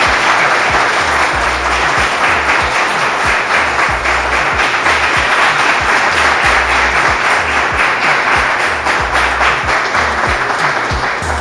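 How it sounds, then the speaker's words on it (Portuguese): Dense, sustained applause from an audience at the end of a lecture on strategy and history, with many hands clapping loudly and evenly for the whole stretch. "Uma salva de palmas."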